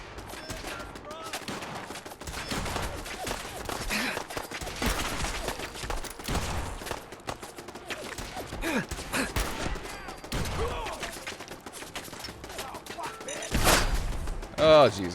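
Turrets open fire in Fallout 4, with repeated bursts of rapid gunshots and thumps crowding the scene while a player talks over the shooting.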